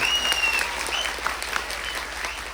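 An audience at a live stage show claps in a dense, sustained round of applause with a faint tone ringing in the background.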